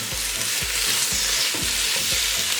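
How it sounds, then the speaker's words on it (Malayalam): Salted chicken stirred in a hot pan, a loud continuous fry sizzle with rhythmic scraping strokes of a spoon about every half second, close up and without talk. "ഒന്ന് ഇളക്കി ഒന്ന് യോജിപ്പിക്കാം."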